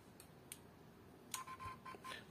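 A Hobbywing Quicrun Fusion 2-in-1 RC crawler ESC beeps during calibration: faint, short electronic tones, a pair of early beeps then a quicker cluster of three, over quiet background hiss.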